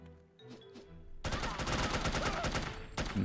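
SMG gunfire in the video game No One Lives Forever, a continuous close, loud automatic burst that starts abruptly and runs for about two seconds after a quieter opening.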